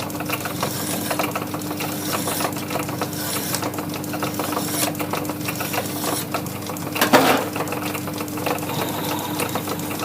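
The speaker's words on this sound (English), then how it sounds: "part her off in the little lathe" Small centre lathe parting off a workpiece, a steady grinding, chattering machine drone running throughout with a brief louder burst near the middle, no talking.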